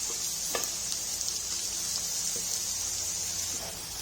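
Onions sizzling as they fry in a pot for Syrian kibbeh, a steady close hiss with light crackle throughout and a few soft stirring knocks, no voices.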